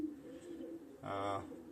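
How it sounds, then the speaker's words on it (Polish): A pairing pigeon's low, throaty coo rises briefly near the end, over a steady murmur of background noise. "bo tu się parują te gołębie."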